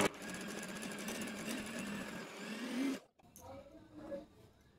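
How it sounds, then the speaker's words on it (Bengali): An electric beater whirs steadily through kesar pista ice cream batter with green food colouring, a loud continuous motor hum for about three seconds before it cuts off, followed by quieter clattering. "কালারটা দিয়ে আমি আবারও বিট করে নিচ্ছি।"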